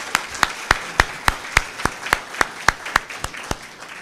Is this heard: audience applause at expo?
yes